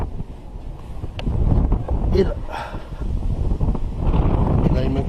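Strong outdoor wind buffets the microphone in loud, continuous rumbling gusts while a man works on timing the belt of a PSA 2.0 HDI engine, his voice heard briefly over the noise.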